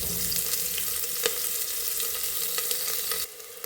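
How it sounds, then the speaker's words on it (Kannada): Two medium-sized sliced onions frying in oil in a pan for a biryani give a steady, dense sizzle and crackle, with light stirring scrapes, and no voices. "ನೋಡಿ, ಆನಿಯನ್ ಚೆನ್ನಾಗಿ ಆಯಿಲಲ್ಲಿ ಫ್ರೈ ಆಗ್ತಾಯಿದೆ."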